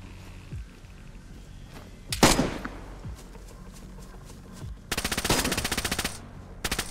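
Gunfire in DayZ, heard in a near, loud single shot followed later by a sustained automatic burst of rapid, evenly spaced cracks, with a short second volley at the end.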